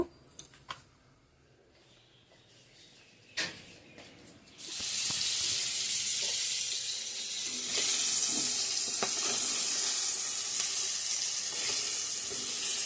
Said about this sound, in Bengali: পুটুল ভাজাটা করে নিচ্ছি এদিকে